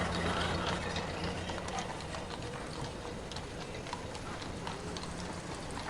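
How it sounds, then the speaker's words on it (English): Horse-drawn wagon hooves clip-clop along a hard city street at a steady walking pace, mid-distance, with a faint mechanical ticking and general street noise behind. "Some horse-drawn wagons still clomped along the streets"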